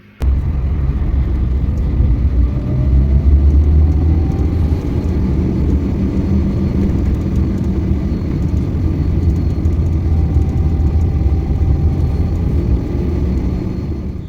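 Steady low engine rumble from inside a manual car being driven, a constant droning hum with faint tonal whine, fairly loud and unbroken throughout.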